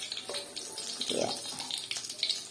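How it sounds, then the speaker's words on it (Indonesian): Water pours and splashes as cooked Richeese cheese-flavoured instant noodles are drained in a kitchen, a steady running flow with a brief heavier gush near the middle, close and moderately loud. "tiriskan dulu guys. Tiriskan dulu."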